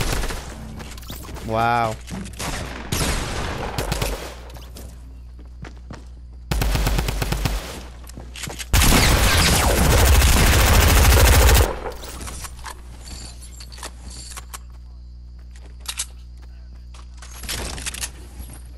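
Bursts of rapid automatic gunfire crackle through a squad match in a video game, loudest in a long dense stretch midway, with players calling out and exclaiming over the shooting.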